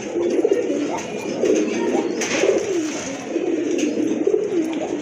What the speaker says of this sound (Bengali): অনেক বড় সাইজের এক জোড়া কবুতর